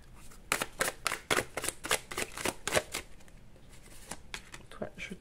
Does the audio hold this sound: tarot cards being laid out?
yes